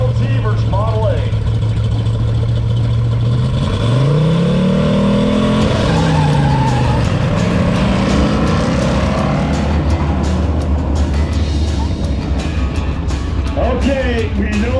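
Model T and Model A roadsters race side by side at the RPM Nationals 2025, their engines loud and close, revving up and sweeping in pitch, with a hint of tire squeal. Voices can be heard over the engines.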